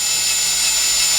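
Steady high-pitched whine of a drill bit boring slowly at low speed into a broken, hardened steel bolt deep in a recessed hole, loud and continuous with no talking.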